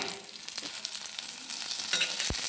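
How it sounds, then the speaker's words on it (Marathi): Food frying in a pan while being roasted until the liquid cooks off, a steady close hiss of sizzling with a few sharper crackles and one brief louder clatter near the end, no talk. "आणि सारं खर्च होईपर्यंत भाजायचं आहे"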